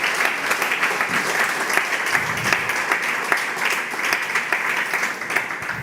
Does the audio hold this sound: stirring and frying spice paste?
no